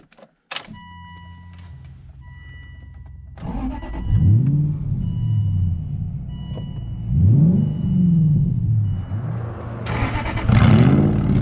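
A loud, straight-piped Aston Martin engine starts, then revs hard in several rising bursts with a raspy, crackling exhaust, growing harsher toward the end.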